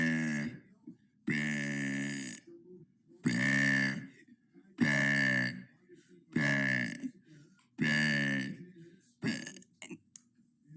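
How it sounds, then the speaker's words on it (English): A person lets out six long, loud, deep burps one after another with short silent gaps, close up and alone. "That was day 83 of burping for 100 days."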